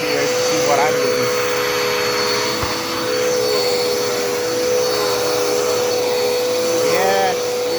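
A Dirt Devil Endura Reach stick vacuum cleaner runs continuously indoors, a loud, steady motor whine with airflow hiss and slight shifts as it moves over the floor.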